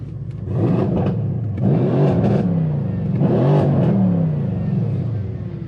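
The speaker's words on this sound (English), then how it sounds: "I'm gonna have it in Sport Plus so you can listen to it" A 604 bhp Mercedes C63S AMG driven in Sport Plus mode, its engine loud and close from inside the cabin, rising and falling through several revving pulls.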